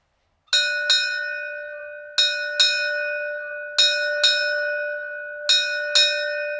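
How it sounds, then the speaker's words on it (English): A ship's bell rings eight times in four paired strikes, each a bright metallic clang that rings out and slowly fades between pairs. It is close and clear, with no voices. "the ship's bell is struck 8 times to indicate the changing of the watch"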